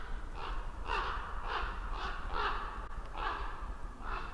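A raven gives a run of harsh, hoarse caws at a steady, evenly spaced rhythm, about eight calls, clear and fairly close with no other voices.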